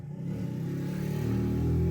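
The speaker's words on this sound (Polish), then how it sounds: "Ciekawe, czy mi się uda uruchomić to auto zdalnie sterowane." A remote-controlled toy car runs with a steady, buzzing motor whine that rises slightly in pitch and loudness over the two seconds, with a faint rattle beneath and no talking.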